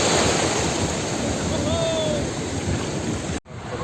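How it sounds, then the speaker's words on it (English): Surf rolling onto Arambol beach in North Goa, a steady broadband wash with wind buffeting the microphone, continuous and fairly loud, cut off briefly near the end. "Right now we are sitting here in the Arambol beach, sitting and relaxing"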